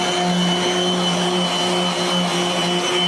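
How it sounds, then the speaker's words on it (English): An orbital sander grinds hard against a handcrafted wooden skateboard deck, with a vacuum extraction system attached, producing a loud, steady whirring drone with a constant hum throughout and no talking. "I'm going to put a lot of strain on this sander that you shouldn't normally put on an orbital sander."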